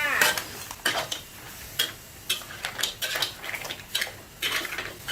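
Boiled mussels get stirred in a pot with basil leaves, shells clinking and scraping against the metal in a quick irregular series of sharp clatters, close and alone.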